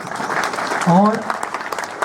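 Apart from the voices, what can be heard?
audience applause at a police post inauguration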